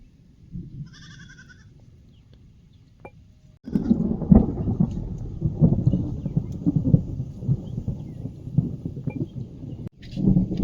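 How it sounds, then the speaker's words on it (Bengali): Thunder rumbling across the sky during a sudden rainstorm, a heavy low roar that swells in loudly after a quieter opening and keeps rolling without a break, with a faint bleat-like cry near the start. "কন্টিনিউ আকাশ ডাকছে দেখো"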